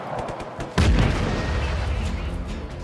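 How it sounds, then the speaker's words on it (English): A grenade blows up in the open-world action game Just Cause 3, a sudden heavy boom that rolls into a long low rumble trailing for a couple of seconds after some quieter gunfire. "Grenade!"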